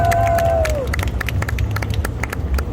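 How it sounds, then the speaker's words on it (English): Outdoor street crowd at the Persian Day Parade in New York City, clapping loudly and steadily at close range with cheers mixed in, while a faint whistle-like tone fades out near the start. "Let's hear a round of applause for Donna Pesapar."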